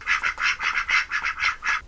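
Runner ducks quack inside their winter pen, with about nine loud, close, nasal quacks coming in a quick, steady rhythm. No other sounds are heard.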